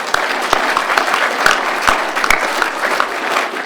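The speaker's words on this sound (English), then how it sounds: "so I think we ought to give them a round of applause too." Audience applause at the Stanley D. Wilson Memorial Lecture, a loud, steady round of clapping from a crowd with sharp individual claps standing out, heard alone without talk.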